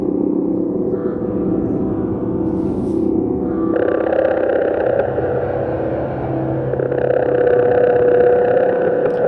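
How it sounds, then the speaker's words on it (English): A Krell-like science-fiction drone from a synthesizer, a loud sustained buzzing tone that steps up in pitch and brightness partway through, with shifting layered harmonics throughout and no voices. "sounding very science fiction now. It sounds a bit like a Krell."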